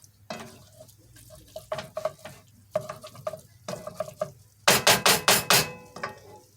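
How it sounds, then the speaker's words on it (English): Chopped onion being sautéed and stirred in a pan for a taco pie, with a utensil scraping and clacking against the pan in rhythmic bursts over a soft sizzle, getting louder toward the end. "saute the onions in first"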